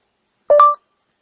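A single short two-tone beep from a phone as voice typing switches on after the microphone icon is tapped, crisp and close, sounding alone in silence.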